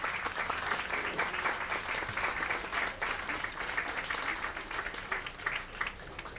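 Audience applause for a female musical duo at a literary prize event in a café, steady moderate clapping throughout, somewhat distant, with no speech over it.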